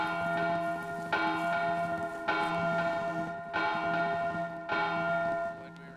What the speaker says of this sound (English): Would we ring the bell? Gather around.